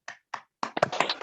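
Hand claps from a children's digestion clapping game in a classroom lesson: two separate single claps, then a quick run of rhythmic claps, close and fairly soft.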